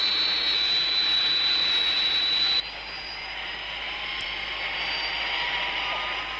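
A jet aircraft roars steadily close by with a high whine over a broad rumble, shifting in tone partway through; no voices.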